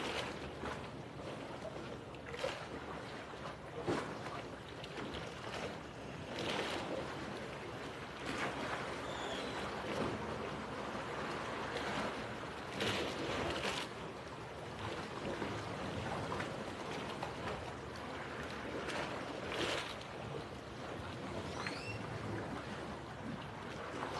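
Ocean waves at sunrise wash steadily against the shore, a continuous broad rush with recurring surges of surf, moderately close and alone without voices.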